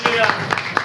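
A church gathering claps hands in a quick steady rhythm, crisp claps sounding roughly four times a second beneath a prominent speaking voice.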